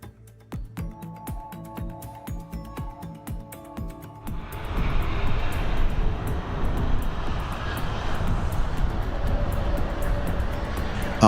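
An airplane lands on a runway, at first heard as scattered clicks and knocks, then a loud, sustained roar of engines and rolling wheels building and holding to the end.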